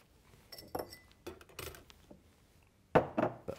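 Glass is handled on a countertop while crushed ice is being made: a few scattered light clinks and knocks, close and fairly quiet, with a sharper cluster of clinks near the end and no talking.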